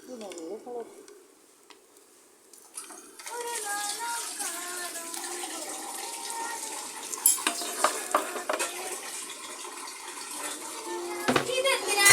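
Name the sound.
tempering mustard seeds, red chillies and curry leaves in hot oil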